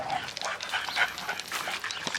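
American Bully XL puppy making short yips and whimpers, close and fairly loud, a quick run of small sounds with no talking.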